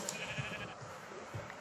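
Blocky video-game sheep in Minecraft bleat in short, moderately loud calls, with two brief low bleats spaced about a second apart over a soft background, and no talking.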